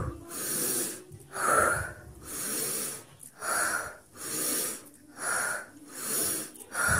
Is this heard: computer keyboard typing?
no